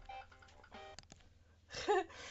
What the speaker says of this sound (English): 2 seconds, the phone's going